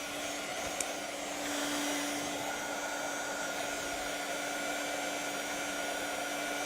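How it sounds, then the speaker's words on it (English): A heat embossing gun blows with a steady whooshing roar and a constant whine, running close and unbroken throughout. "So take your heat embossing gun."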